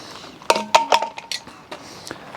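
A metal bowl lifted out of a Masterbuilt charcoal bullet smoker gives several sharp clinks and ringing knocks in quick succession, close and fairly loud, then dies away to quieter handling.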